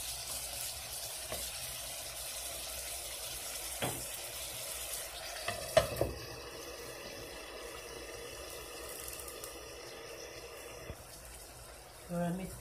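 Chicken offal frying in a tomato sauce with cumin in a pan, a low steady sizzle with occasional clinks and stirring knocks, while someone talks over it.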